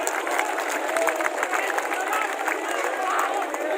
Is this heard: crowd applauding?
yes